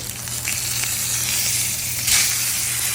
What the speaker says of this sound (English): we're going to go ahead and flip this steak and check out the sear